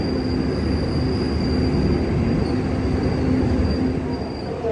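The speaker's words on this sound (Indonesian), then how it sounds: "Pukul 18:19 kereta api Motis Utara masuk di stasiun Bekasi." The Motis Utara train rolls into Bekasi station with a steady loud rumble of wheels on rail and a thin sustained squeal above, continuous and close throughout.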